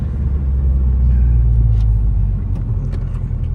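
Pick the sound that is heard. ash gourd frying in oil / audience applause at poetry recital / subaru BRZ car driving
subaru BRZ car driving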